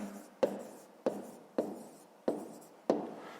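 Pen on paper during a fifth-grade maths exercise: five sharp, evenly spaced tapping strokes, each followed by a brief scratch, close and fairly quiet with no talk.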